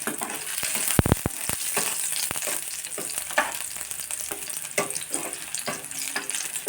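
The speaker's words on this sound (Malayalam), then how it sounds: "ഈ എണ്ണയിലോട്ട് നമുക്ക് വെളുത്തുള്ളി ചതച്ചത് ആദ്യം ചേർക്കാം." Crushed garlic sizzles and fries in hot oil in a pan, a bright steady crackle with a few sharp clattering knocks near the start as it is added and stirred, with no speech.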